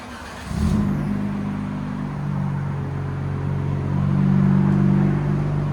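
A 2022 RAM pickup's 3.6L V6 on its stock exhaust rumbles steadily at close range, a low, even drone that swells slightly as the revs lift a touch, with no talking over it.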